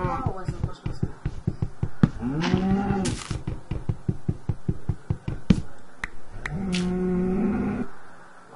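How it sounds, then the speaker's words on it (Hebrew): Cows in a survival video game give two long, drawn-out moos, one early and one near the end, over a steady run of sharp clicking knocks, with a voice talking in between. "פרות, אני שומע אותם, בטח גם אתם שומעים אותם כבר"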